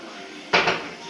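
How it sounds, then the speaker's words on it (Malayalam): A single sharp clack as the lid of a pressure cooker is pressed shut in a home kitchen, a brief metallic knock with a short tail over quiet room hiss. "ഇനി ഞാൻ കുക്കർ അടയ്ക്കാൻ പോവാണ്."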